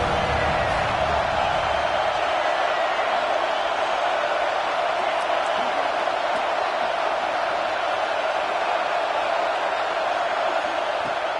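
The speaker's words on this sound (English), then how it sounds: "The Buckeye crowd alive on 3rd down." A college football stadium crowd roars steadily for the Buckeyes on a third down during a College Football Playoff game, a dense and continuous wash of cheering that holds throughout without letting up.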